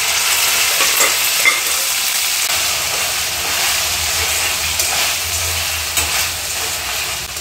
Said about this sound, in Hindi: गोश्त को अच्छे से मैं ऑयल में फ्राई कर लूंगी।